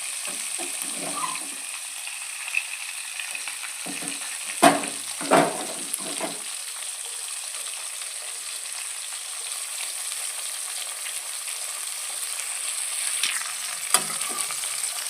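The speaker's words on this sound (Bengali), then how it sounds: "মাছগুলো আমি এভাবে উল্টে উল্টে দেবো। দেখো অনেকটা ভাজা ভাজা হয়ে এসছে, আর একটু ভাজা হবে।" Pieces of katla fish fry in a little oil as they are turned, producing a soft steady sizzle with a few louder bursts of crackle and scraping, heard close with no speech.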